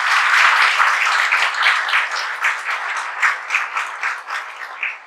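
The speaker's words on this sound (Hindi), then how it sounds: "तो BRO के सिलेक्शन के लिए भी एक बार जोर से ताली बजाओ सब।" Audience applause and clapping from a crowd at a coaching-class toppers' event celebrating an engineering selection, dense and steady throughout with rhythmic bursts, no talk over it.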